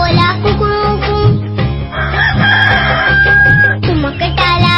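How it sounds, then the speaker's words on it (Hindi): Rooster crowing in a children's Urdu nursery rhyme, heard over a steady, loud musical backing with a bright sustained call near the middle, likely a sung or synthesized cock-a-doodle-doo. "मुर्गा बोला कुकड़ू"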